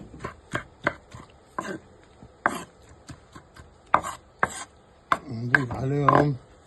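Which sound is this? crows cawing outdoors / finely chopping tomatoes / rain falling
finely chopping tomatoes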